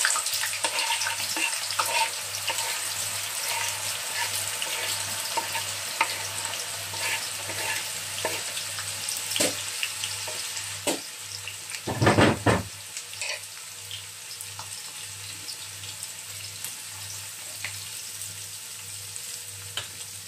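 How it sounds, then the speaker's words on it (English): Onions frying in hot oil for Nigerian jollof rice sauce, a long steady sizzle and crackle with scattered pops and one loud clatter midway, no talking. "So now I'm going to add my onions."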